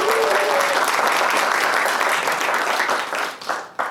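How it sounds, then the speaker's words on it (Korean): Audience applause at a political party debate event, a dense, loud wash of clapping from many hands that holds steady and then thins and fades toward the end. "너무 존경의 박수를 다시 한번 좀 보내주시면 고맙습니다"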